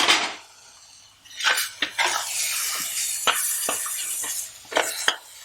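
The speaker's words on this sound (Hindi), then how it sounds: "अब इसे अच्छे से सौते कर लेंगे।" Chicken curry masala with turmeric sautéed in a pan makes intermittent scraping and clattering spatula strokes over a soft hiss, close and moderately loud, with quiet gaps between stirs.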